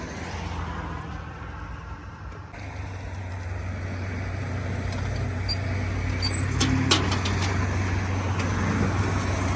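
A tow truck arrives to collect a car after a breakdown, a steady low engine rumble building gradually amid roadway traffic noise, with a few brief metallic clanks near the end.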